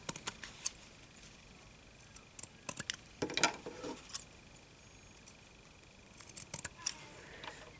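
Scissors snip the corners off sewn fabric squares, clipping just short of the seam; sparse, crisp cuts come in small clusters with quiet pauses between them.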